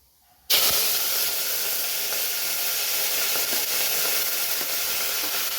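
Curry leaves drop into hot oil and set off a sudden loud hissing sizzle that starts after a short quiet moment and keeps going strongly to the end.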